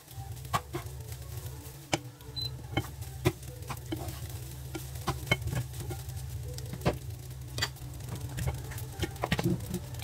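Egg fried rice with mixed vegetables being stirred and tossed in a hot pan, with repeated scraping and tapping strokes over a steady, close sizzle.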